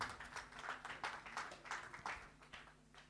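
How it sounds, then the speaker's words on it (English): Scattered clapping from a small conference audience welcoming a speaker, a soft, steady patter of hands that continues evenly for a few seconds at low volume. "A big round of applause for our speaker."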